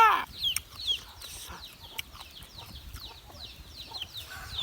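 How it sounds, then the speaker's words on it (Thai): Chickens cluck repeatedly in a farmyard, a steady stream of short calls from several birds, some near and some farther off, with no talking. "ได้ยินเสียงไก่แบบเจี๊ยกัวเจี๊ยกัว"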